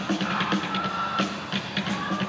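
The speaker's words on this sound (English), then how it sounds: "When I say loud, I want everybody to get real loud." Audience at a concert in Lancaster, PA yelling, whooping and cheering loudly in a steady roar of crowd noise with scattered shouts.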